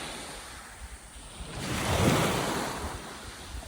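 Sea of Japan surf washes onto a beach at night, a steady hiss with one broader wave swelling up and receding, heard fairly close with some wind buffeting the microphone.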